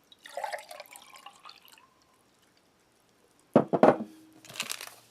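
Water pours into a German MRE drink pouch, a fizzy splashing trickle at first, then a pause, followed by loud crinkling and rustling of the plastic pouch close up.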